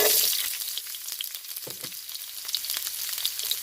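Garlic and pimento peppers frying in a pan for fish stew, a close steady sizzle with soft crackling and a little stirring throughout.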